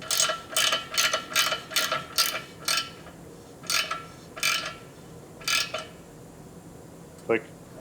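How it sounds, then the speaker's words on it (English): A torque wrench tightens the lug nuts on the wheel of a Honda Civic after a tire sensor swap, giving a quick run of sharp metallic ratcheting bursts, then a few spaced clicks and one short squeak near the end. "and torque it down"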